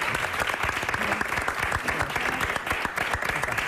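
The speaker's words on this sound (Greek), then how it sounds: "Να σηκωθεί η κυρία Ρεμπούτσικα, εάν τη χειροκροτήσουμε θερμά και με την καρδιά μας." Warm audience applause fills a Greek television studio as Ms. Rebmoutsika stands, dense steady clapping sustained throughout at an even level.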